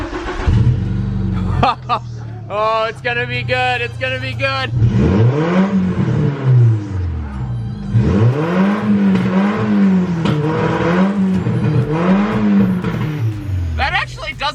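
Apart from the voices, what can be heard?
car engine running with exhaust leak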